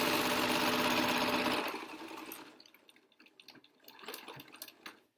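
A sewing machine runs steadily while back-stitching the end of a seam on an N95 replacement mask, loud and continuous for about a second and a half, then stopping and giving way to quieter clicks and handling noises.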